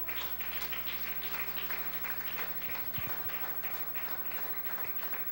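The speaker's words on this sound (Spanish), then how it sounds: "¿Cuántos aplauden su nombre?" A church congregation applauds during a Spanish-language sermon, a sustained spread of fairly quiet, scattered hand claps with a low background hum and no speech.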